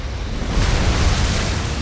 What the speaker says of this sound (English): you're out there in the elements, the wind and the waves.